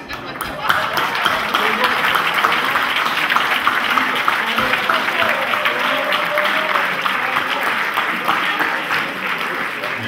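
Audience applause at a Socialist Party (PS) candidate-list presentation in Charleroi: loud, dense clapping from a large crowd, sustained evenly for the whole stretch without a pause.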